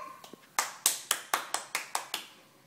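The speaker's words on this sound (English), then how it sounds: "show him how to clap his hands." A young child claps their hands at home during a family dance game, eight or nine sharp, fairly evenly spaced claps close by, with a few fainter taps at the start and no talk over them.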